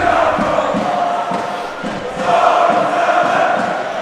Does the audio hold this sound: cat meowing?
no